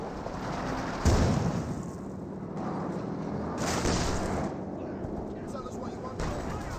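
Gunfire and heavy weapon bursts from the World War II strategy game Company of Heroes 2, with a sharp blast near the start and another around four seconds, over a continuous din of battle and commentary.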